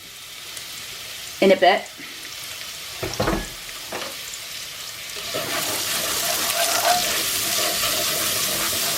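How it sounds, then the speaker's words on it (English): Onion sizzling in a hot pan for a chicken curry, with a few clatters of stirring early on before a steady hiss builds and holds; a voice speaks briefly. "we need to put the onion in to start the onion cooking"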